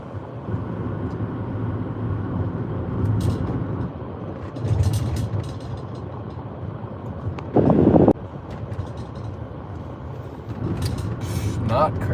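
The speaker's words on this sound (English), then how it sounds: "No, I'm driving a car, bro." A car being driven, heard from inside the cabin: a steady low road and engine rumble with wind noise runs throughout, under someone talking on the phone.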